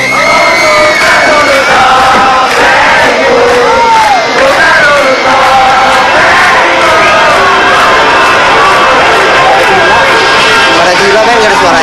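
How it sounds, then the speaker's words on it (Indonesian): A large concert crowd of fans shouts and sings along loudly with no music playing, a dense chorus of voices with whoops and cheers filling the space throughout. "dia cuma dengar orang-orang cuma teriak-teriak nyanyiin lagu tanpa musik."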